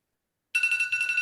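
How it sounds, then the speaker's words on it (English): Workout timer alarm going off after a short silence, a bright electronic ringtone-like beeping that repeats in quick pulses, moderately quiet and heard on its own. "obviously you can hear my timer going off"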